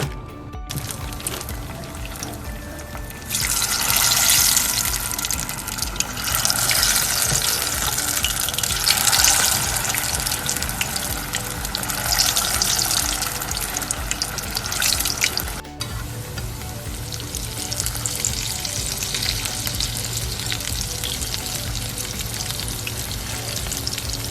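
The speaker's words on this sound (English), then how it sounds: "just grab them and fry them." Falafel balls fry in hot oil with a loud, steady crackling sizzle that swells after a few seconds and continues throughout, close up and without speech.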